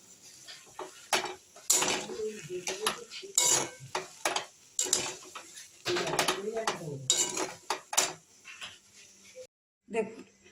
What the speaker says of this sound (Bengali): আলুটাকে এইভাবে করে নেব, নিয়ে আমি ভালো করে মিক্সড করে নেব।